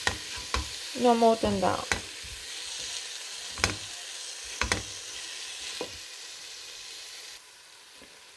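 Ginger and garlic fry in a pan on lowered heat, a faint sizzle with a few scrapes and clinks of stirring early on, then settling quieter, with a short spoken phrase at the start.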